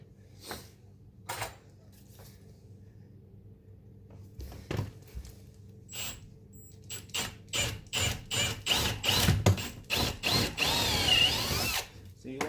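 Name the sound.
power drill drilling into door frame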